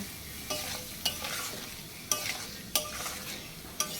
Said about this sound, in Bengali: এবার মশলার পেস্টটাকে আমি কড়াইতে দিয়ে দেবো দিয়ে খুব ভালো করে কষিয়ে নেব